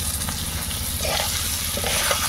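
Pre-fried vegetables being added to a hot pan for Bengali labra, giving a continuous soft frying hiss with light scraping and clattering as pieces go in.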